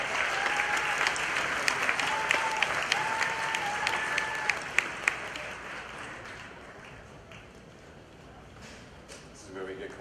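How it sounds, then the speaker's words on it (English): An audience applauds at a lively performance event, with sustained clapping and a few sharp louder claps before the applause fades toward the end; voices briefly cut in. "Let's give them a round of applause."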